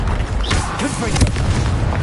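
A Confringo blasting spell exploding in Hogwarts Legacy, a short booming burst with a rumbling low tail amid spell-casting combat, heard alongside a voice.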